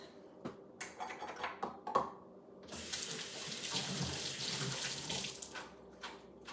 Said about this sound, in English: So now I'm going to go wash my hands.